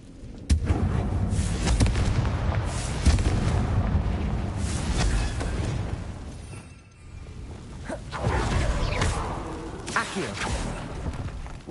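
Repeated booming spell blasts and explosions from a Harry Potter video game, with loud crackling bursts and whooshes coming one after another at close range, filling most of the stretch apart from a brief lull.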